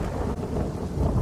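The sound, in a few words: heavy rain with thunder in Dwarka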